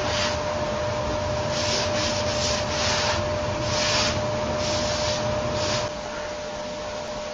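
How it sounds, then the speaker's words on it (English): A trowel smoothing drywall mud on a wall gives a loud, continuous close-up rasping scrape with slight rhythmic swells from the strokes, with no talk. "I'm just smoothing, getting rid of most of the ridges."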